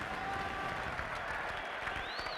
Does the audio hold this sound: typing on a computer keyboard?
no